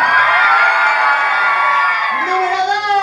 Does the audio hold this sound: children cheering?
yes